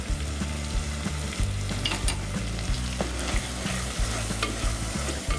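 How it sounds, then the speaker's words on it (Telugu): Biryani masala being stirred into vegetables in a pan for veg biryani, a steady scraping and clattering of the spoon over a soft sizzle, close and continuous with no talking. "ఇప్పుడు దీన్ని కలిసేటట్టు కలుపుకోవాలి మొత్తం"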